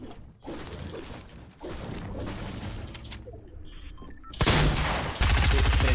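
Shotgun fire in Fortnite, with loud blasts and gunfire chatter across a busy battle mix that ends in two especially loud, close bursts.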